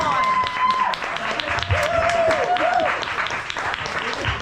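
An audience at a Sasquatch-themed gathering claps in an applause vote for a contestant, steady moderate clapping throughout with voices and whistle-like whoops riding over it.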